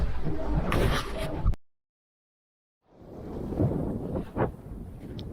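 Wind buffets a sailboat out on the water, heard as loud rumbling microphone gusts, broken by a sudden stretch of total silence before the gusting resumes.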